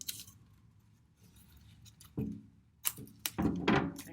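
Strip of tape torn off a roll while building a shoe midsole, heard as a faint scrape followed by a few sharp, close ripping and crackling bursts near the end.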